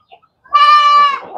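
A single loud goat bleat, close and wavering, lasting under a second.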